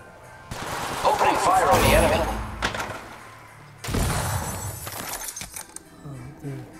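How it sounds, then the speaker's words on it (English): Gunfire in Apex Legends crackles in two loud, dense bursts separated by a lull, with metallic clatter and a voice speaking briefly in between. "Opening fire on the enemy."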